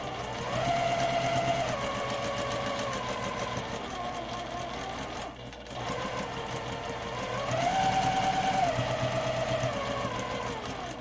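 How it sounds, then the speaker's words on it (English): A sewing machine re-stitches a quilt block for a Star Garden quilt, its motor whirring in a long continuous run with a brief dip midway, close and steady, with no talking. "I think I'm going to re-sew these."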